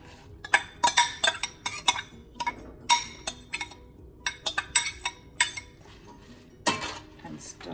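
A metal spoon stirs spinach and lentils in a pot, with close, bright clinks and scrapes against the metal sides coming in irregular bursts and short pauses.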